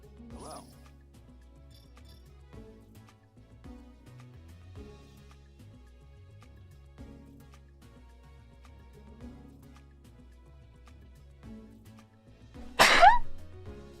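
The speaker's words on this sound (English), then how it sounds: "I feel a sneeze." A single sharp human sneeze bursts out loudly near the end, after a stretch of quiet background game music and light sounds.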